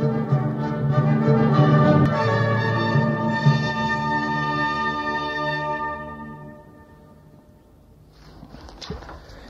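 Excerpt from a record by the Jubilate ensemble of Versailles: sustained, harmonically rich tones fill the first six seconds, then fade out, leaving only a faint, noisy tail.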